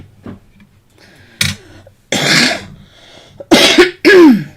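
Several harsh, wet coughs come in bursts, growing louder toward the end, with quieter shuffling between them.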